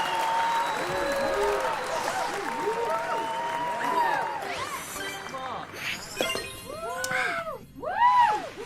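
Clapping applause from a crowd rolls steadily through the whole stretch, dense and close, with some whistles and a few shouting voices rising above it near the end.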